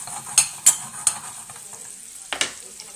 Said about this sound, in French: vous plongez la courgette. On va faire caraméliser légèrement.